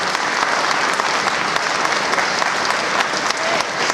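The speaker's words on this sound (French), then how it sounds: "on peut applaudir Laurence pour cette super conférence." A conference audience at a survivalism fair applauds after a talk on wild edible plants, a loud, sustained wall of clapping that holds steady for the full four seconds, with no voices over it.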